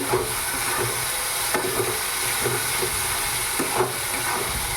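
Ginger garlic paste frying in hot oil for Schezwan chicken, a steady close hiss and sizzle with a few soft clicks of a spoon stirring the pan throughout.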